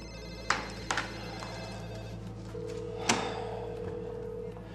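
An office telephone ringing in a busy police department office, a couple of short rings with taps and thuds nearby, plus a steady tone, at moderate level with faint background voices.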